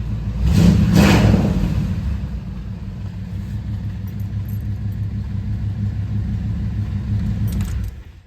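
A 1985 Chevrolet Monte Carlo SS V8 running on 110-octane race gas cold starts with a loud burst around the first second, then settles into a deep, steady rumbling idle that cuts off near the end.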